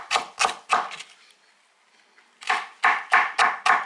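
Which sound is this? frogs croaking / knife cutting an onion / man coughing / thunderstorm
knife cutting an onion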